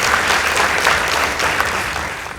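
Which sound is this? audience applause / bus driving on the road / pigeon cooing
audience applause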